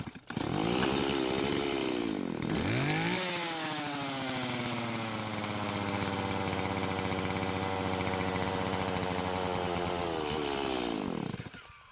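A Stihl chainsaw under repair pulls over briefly, dies, then fires and runs at a steady, loud, buzzing idle-to-mid speed for several seconds before cutting off abruptly, with no voices.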